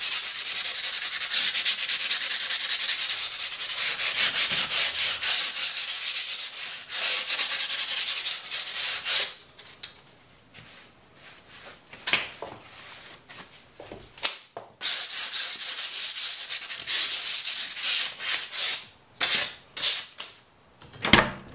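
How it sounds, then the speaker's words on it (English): Hand sanding of flaking, peeling paint with sandpaper, a loud, continuous scratchy rubbing in steady strokes, then shorter broken bursts of scraping separated by brief pauses. "You've probably just seen me sanding it down and dusting it all off."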